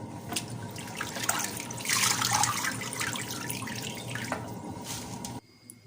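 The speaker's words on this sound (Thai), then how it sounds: "ล้างรอบสอง กุ้งแดงสวีเดนค่ะ กุ้งสด" Tap water runs and splashes steadily as fresh Swedish red shrimp get a second rinse, a close continuous hiss with gurgles and drips that cuts off near the end.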